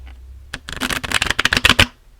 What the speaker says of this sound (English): Let's see, a better hard table shuffle.